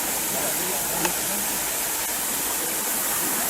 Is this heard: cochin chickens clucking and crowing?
no